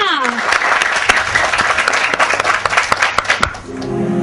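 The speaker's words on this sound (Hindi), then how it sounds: "तालियां।" Loud audience applause greets dancer Sagarika Chakraborty on the Hunarbaaz talent show stage. A voice sounds over the clapping, and music rises as the applause dies away at the end.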